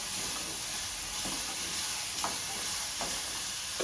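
Mixed vegetables for brown-rice fried rice fry in a pan and are stirred, giving a continuous sizzle with occasional soft scraping strokes.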